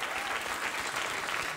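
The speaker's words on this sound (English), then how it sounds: "That's the applause?" A late-night television studio audience breaks into dense, sustained applause that fills the short stretch evenly and loudly, with no one talking over it.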